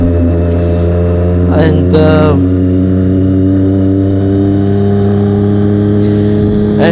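Triumph Daytona 675R sport motorcycle, a 2016 model with an up quick shifter, running with a steady engine drone and a couple of brief rising rev bursts; someone talks over it throughout.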